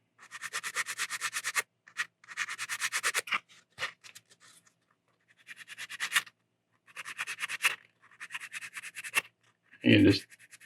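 Worn sandpaper scratching over a small detail area of a resin model kit, several bursts of short rhythmic rubbing strokes separated by pauses, close and fairly quiet, with a brief louder knock near the end.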